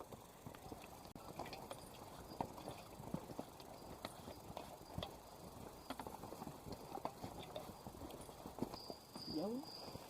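Hooves of livestock clip-clopping along a mountain hiking trail between camp posts on Bulu Baria, 2730 m, a dense run of close, uneven footfalls that continues throughout, with a short animal call near the end.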